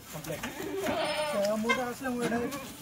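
Goats sold and counted as a lot of ten give several wavering bleats in quick succession, close and clear, with what sounds like human voices mixed in.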